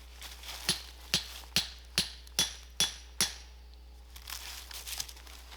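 Seven sharp, evenly spaced hammer blows ring out close by while a trap is being set, followed by softer rustling and scraping.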